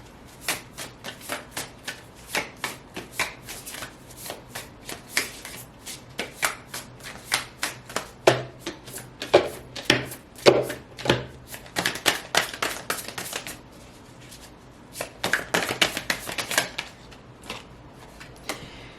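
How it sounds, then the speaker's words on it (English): Oracle cards being shuffled by hand, a rapid series of crisp riffling flutters and slaps repeating over and over, close and clear with a brief lull before resuming. "Let's pull some oracle cards."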